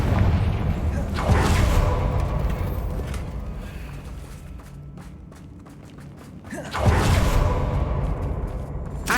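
A Confringo fire spell explodes in the game Hogwarts Legacy, a heavy booming blast with a rumbling tail, then a second loud burst a few seconds later, with footsteps and a character's voice around it.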